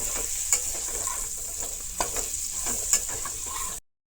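Pointed gourd frying in a pan over low-medium heat, a continuous bright sizzle close by with periodic scraping and clinking as the pieces are stirred and turned, no talking.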